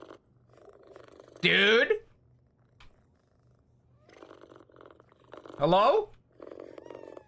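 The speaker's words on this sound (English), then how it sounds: "Why are you meowing? That was you." A cat gives two loud, drawn-out meows a few seconds apart, close by, over a soft low purring, while a person speaks briefly between the meows.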